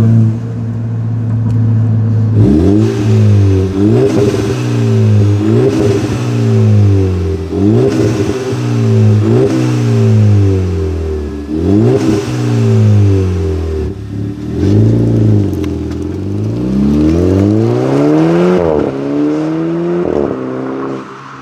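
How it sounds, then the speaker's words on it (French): A Volkswagen Polo's engine revs repeatedly, loud and close, each rise carrying the exhaust valve's raspy swell before falling back, with several quick blips followed by a longer climbing rev. "on entend bien le bruit de la valve hein, et le son il est très joli"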